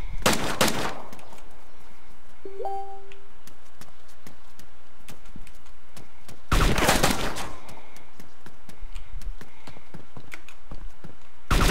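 Two loud bursts of rapid gunfire in the game DayZ Standalone, several seconds apart, with scattered sharp clicks and taps between them in a game-like soundscape.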